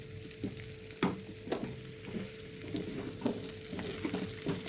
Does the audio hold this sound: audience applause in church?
no